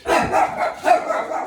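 A dog barks a few times in quick succession, loud and close, with irregular spacing and a brief voice in the background.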